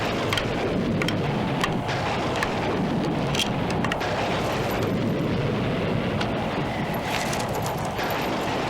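Heavy rain pours steadily through a violent stormy night, with rumbles of thunder rolling beneath the constant loud hiss of the downpour and no voices.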